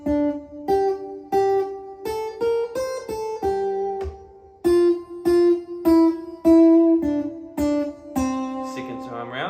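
An acoustic guitar, played without a capo, picks a riff, a repeating pattern of plucked notes with sliding changes, clear and close, with no talking.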